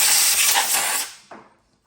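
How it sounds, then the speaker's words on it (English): A loud, close blast of compressed air hisses across a Husqvarna chainsaw for about a second to clear debris, tapers off, then a short second puff follows before silence. "I'll blow this stuff off a little bit better."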